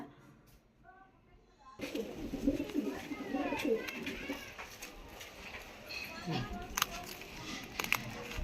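Pigeons cooing at a home, soft repeated coos near the start, then louder bird calls and fluttering over a busy background, with people talking throughout.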